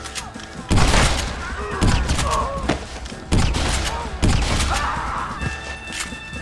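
Gunfire crackles through a Red Dead Redemption shootout, with repeated sharp volleys and thuds at close range over a constant low rumble, while voices call out between the shots.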